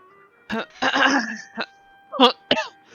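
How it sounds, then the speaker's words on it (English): A person coughs and clears their throat in a few short, close bursts with brief pauses between them, and speech-like sounds are mixed in. "Hold on, my cough."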